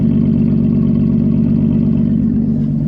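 A Nissan S14 with an RB25DET engine idles, heard from the exhaust at the back: a steady, deep rumbling burble with a fast even pulse, close and loud, no speech.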